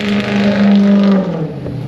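Loud nearby engine of a muffler-less Ford F-350 truck holds a rough, steady note, then its pitch sags as the revs drop toward the end, heard alone without speech.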